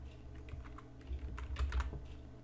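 Quiet, rapid keystrokes on a computer keyboard come in a quick uneven run of clicks and taps, heard alone without speech.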